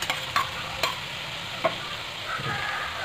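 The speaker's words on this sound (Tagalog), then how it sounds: "Lagyan natin yung ating patatas." Potatoes tipped into ground pork giniling frying in a pan, a steady soft sizzle broken by a few sharp clatters of stirring and scraping, close and moderately quiet.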